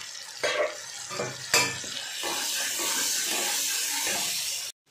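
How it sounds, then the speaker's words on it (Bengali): A spiced paste cooked down with tomatoes, turmeric and salt sizzles steadily in a pan for a Bengali fish curry, with a few sharp clanks of the stirring spoon early on; no one speaks. "মশলাটা ভালো করে কষা হয়ে গেছে"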